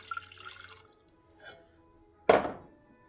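Brief water sounds: a light trickle at first, then a faint splash and one louder gush of filtered water poured into a pot, otherwise quiet.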